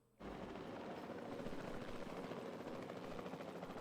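A helicopter in Jurassic World Evolution 2 starts abruptly and keeps up a steady, loud rotor thrum and whine, heard alone without talk.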